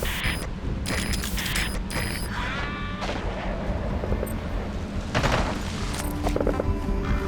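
Bursts of gunfire in Metal Gear Solid V: a loud, close run of sharp shots, some in rapid clusters, over a steady mechanical din. A few quieter shots break through later.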